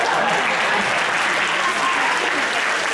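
Loud, dense applause from a live magic show audience, continuous clapping at constant strength throughout, close and full with no talking on top.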